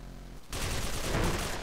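A sudden burst of gunfire in the video game S.K.I.L.L., a team deathmatch, erupts after a brief quiet moment and rolls on as a sustained, loud volley with a game-like quality.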